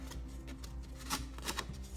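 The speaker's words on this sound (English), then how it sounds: "pull it across the petal like that," A letter opener is drawn across a paper flower petal to curl it, making close, dry papery scrapes and rustles in a few quick strokes over faint background hum.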